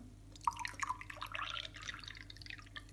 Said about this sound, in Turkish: İçine sirkeyi de koyuyorum.